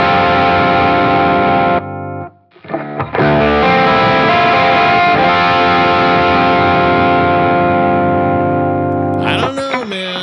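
Electric guitar on its humbucker pickup, driven through a TS808 or ODR-1 overdrive pedal: loud, sustained distorted chords that ring, cut off briefly, then return and hold before a final bend.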